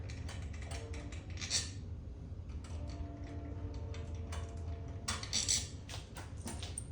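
Bolts being loosened and removed on a 2007 Harley-Davidson Electra Glide with a 96-inch twin cam, giving steady mechanical ticking and ratcheting clicks, close and fairly quiet over a low background hum.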